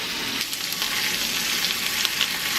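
Steak sears in a cast iron pan while being basted, giving a steady, close, loud crackling sizzle throughout with sharper pops scattered on top.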